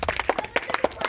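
A handful of people clap hands in a quick, uneven burst of close, sharp slaps lasting about a second.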